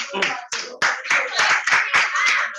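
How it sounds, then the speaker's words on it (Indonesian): Students in a classroom clap together, a burst of sharp, loud hand claps in an uneven rhythm, with some talking mixed in. "beri tepuk tangan untuk Disti Naupa dan Aira."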